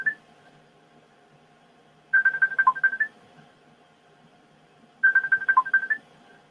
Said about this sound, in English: there is a phone call coming in